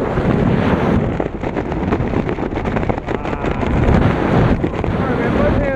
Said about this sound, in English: Just let them fly, okay? It is windy.